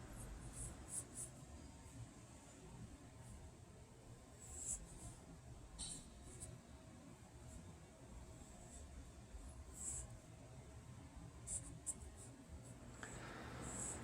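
Pencil sketching on paper during a basic drawing lesson, as the side faces of a curved form are drawn: soft, steady scratchy strokes with a few brighter scrapes, quiet and close, with no talking.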